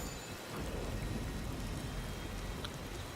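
Steady rain with thunder rumbling in Disney Dreamlight Valley, a continuous game-world storm ambience, moderately loud and even throughout, with no talking.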